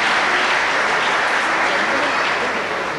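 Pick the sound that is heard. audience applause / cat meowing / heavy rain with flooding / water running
audience applause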